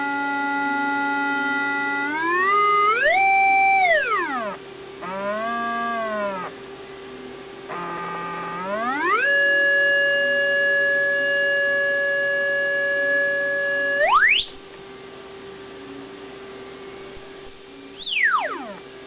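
A pure electronic sine wave tone from a synthesizer VCO sweeps up and down in pitch, holding steady notes between glides, loud and alone with no voices.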